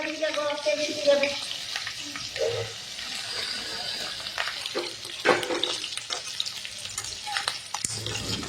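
Chicken legs frying in oil in a home kitchen: a continuous close crackle and sizzle with stirring scrapes and a few clattering knocks, with brief faint voices in the background.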